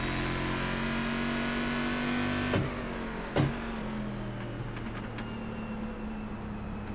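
A GT1 race car's engine in the iRacing sim at Watkins Glen drones steadily at mid pitch, with two brief sharp shifts or jolts partway through and no voices.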